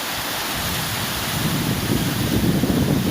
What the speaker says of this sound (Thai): ตกแรง ขึ้นเรื่อย ๆลมก็แรง แต่ดีไม่มีฟ้าลั่น ไม่มีฟ้าร้อง